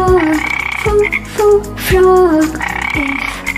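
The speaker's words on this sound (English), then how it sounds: "F is for frog" A frog croaks in a nursery-rhyme phonics song, with repeated croaking calls over bright melodic music, loud and close, each croak returning at a steady rhythm.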